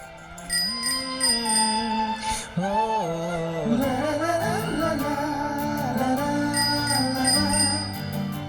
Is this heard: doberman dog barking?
no